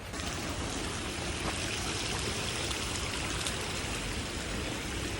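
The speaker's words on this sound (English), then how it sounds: "Literally just like a waterfall going down this path." Water rushing steadily down a steep hiking path at Trolltunga, Norway, a loud, continuous, close-up stream like a small waterfall, with no pauses and no voices.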